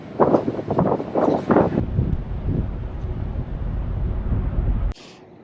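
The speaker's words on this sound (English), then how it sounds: "Whoa, it's windy." Strong wind on a ferry deck during a Harwich to Rotterdam crossing buffets the microphone in loud, gusty roars, then drops off abruptly near the end leaving quieter background.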